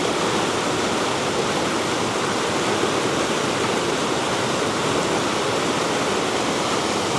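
The River Valency at Boscastle rushes past stepping stones in a loud, steady, broadband roar of flowing water, close by and continuous with no voices.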